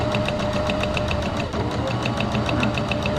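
Sewing machine running a seam on a fabric face mask, a fast, even mechanical stitching patter with a regular ticking rhythm, close and steady throughout.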